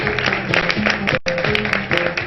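A studio audience on a Pakistani morning show applauds to welcome guest Sanam Baloch. The steady, full clapping runs throughout over tonal music, with one brief drop near the middle.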